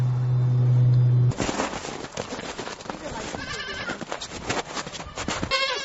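Goats on a farm during kidding season bleat in the background while a person speaks over them, the calls mixing with other farmyard noise after a steady low hum at the start.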